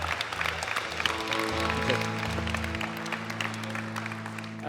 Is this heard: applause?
yes